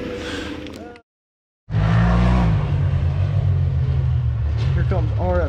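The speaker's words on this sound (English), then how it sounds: "Here comes RF flying. Guys, cooking. Listen to that sucker." An off-road side-by-side races past at Durhamtown off-road park, its engine revving hard in a loud, sustained roar after a brief gap, while excited voices call out over the noise.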